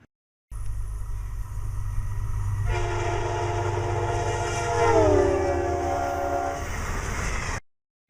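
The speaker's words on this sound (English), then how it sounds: "an object which was producing a sound when moving toward an observer, such as a train, would produce a higher pitched sound as the object approached an observer" Train rumbling past with a horn that starts high and drops in pitch as it goes by, steady low engine roar throughout, loud and close, then cut off abruptly.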